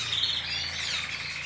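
Birds chirp and tweet steadily in high, busy calls, moderately loud and close, with no voices.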